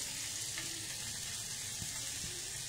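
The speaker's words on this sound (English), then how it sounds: "can you hear the sizzling noise?" Mushroom and paneer frying in a pan give a steady, even hiss of sizzling oil that runs for a few seconds, close and fairly quiet, with a couple of soft clicks and no talking.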